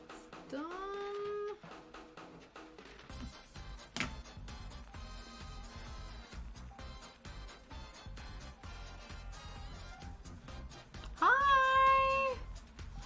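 A pet cat meows twice, loud and close, with a long drawn-out meow at the start and another near the end, over a quiet indoor background of soft clicks and light ambient noise.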